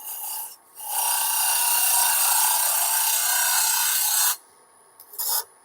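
A lathe tool cuts into a spinning wooden bird-shaped box, a steady close rasping scrape lasting several seconds before stopping, with a brief shorter touch of the tool afterward.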